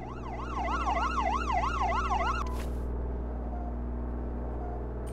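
An ambulance siren in the Flashing Lights emergency video game wails in a fast up-and-down sweep for about two seconds, then cuts off, leaving a steady low engine hum underneath.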